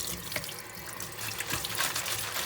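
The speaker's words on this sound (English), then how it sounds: "So pretty much gonna wash it so it's clean." Cleaned, deveined shrimp are rinsed under a running kitchen tap, a steady close hiss of water splashing into the sink with no talking.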